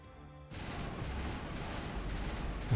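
Gunfire and rocket blasts in the Mass Effect Legendary Edition video game, a dense fusillade that bursts in suddenly after a quiet start and keeps rattling with heavy booms at moderate loudness.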